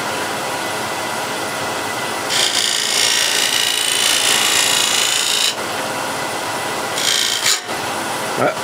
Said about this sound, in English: I'm focusing my attention to get the scraper to this portion of the timber